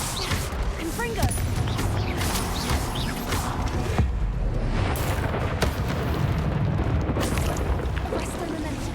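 A Confringo fire-blast spell explodes during Hogwarts Legacy combat, booming bursts and crackling impacts layered with spell whooshes, loud and dense throughout with short sharp transients.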